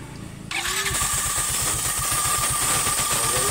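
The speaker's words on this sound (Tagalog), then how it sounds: "So paminawo na tingog sa makina." A Yamaha Mio i125 scooter with a knocking engine starts up after a short quiet moment and settles into a steady, close idle with a regular, pulsing beat.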